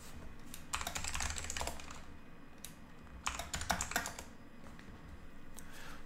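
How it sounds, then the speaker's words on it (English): Typing on a computer keyboard: two clustered bursts of rapid, clicky keystrokes, close and fairly quiet, separated by a short pause, with a few scattered key taps around them and no talking. "So while typing out our turn,"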